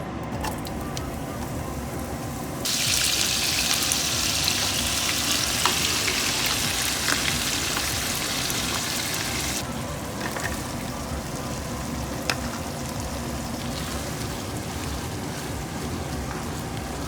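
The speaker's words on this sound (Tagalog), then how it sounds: "Luto tayo corned beef bago tayo pumasok" Corned beef fries in a pan with a steady crackling sizzle. A louder, denser burst of sizzling comes midway and then settles back to a softer fry, with no talking.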